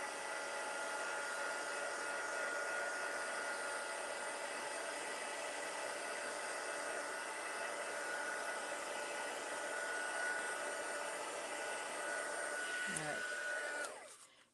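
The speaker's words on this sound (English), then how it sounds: "I'm going to hit this with my heat gun just for a second" A heat gun blows steadily on a handmade whitewash-technique card for about thirteen seconds, a loud, even rushing hiss like a hair dryer, then cuts off and winds down at the end.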